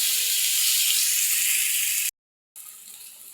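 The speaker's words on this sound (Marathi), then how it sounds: "आता आपण त्यात एक मोठा टमॅटो घालून घेऊयात. टमॅटो सॉफ्ट होईपर्यंत परतायचं आहे आपल्याला." Tomato and onion sizzle in a pan, a steady bright hiss that cuts out abruptly, then resumes at a slightly lower level.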